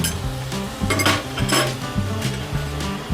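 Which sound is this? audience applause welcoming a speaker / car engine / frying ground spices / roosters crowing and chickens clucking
frying ground spices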